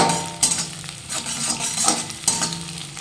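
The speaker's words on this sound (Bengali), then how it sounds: "ডিমটাকে ঠিক এইভাবে নাড়তে হবে, খুব বেশি কড়া করে ভাজতে হবে না।" Egg being stirred as it fries in a pan for a mashed eggplant bharta: steady close sizzle with repeated scraping strokes of a utensil against the pan, no voices.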